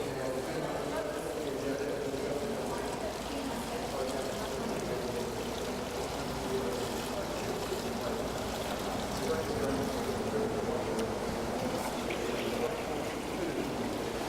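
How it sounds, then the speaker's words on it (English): Water is poured off through a 180 micron screen, a steady, moderately loud splashing pour that runs continuously for several seconds without a break, with no talk over it. "We can just pour this off."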